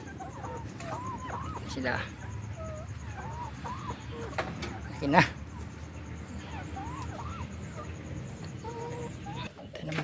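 Rhode Island chickens in a backyard flock on a native chicken farm, clucking and calling softly at mid distance with a sharper squawk near the middle, steady chatter of birds throughout, while someone talks over them.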